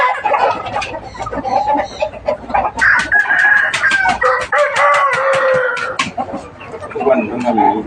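Fighting cocks cluck steadily and break into loud, drawn-out crows near the middle of the stretch, close and busy, while someone talks over them throughout.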